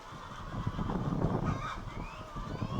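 Poultry at a rural chicken-raising operation of about 2,000 birds for a school meals program, a dense continuous clucking and squawking of many birds close by, with no talk.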